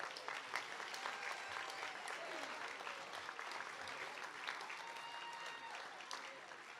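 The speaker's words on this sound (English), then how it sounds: "Would you please offer up another round of applause for your 2024 leaders?" Audience applause for association leaders at a realtor celebration, a broad sustained wash of clapping from a large crowd with some cheering voices, steady from start to finish.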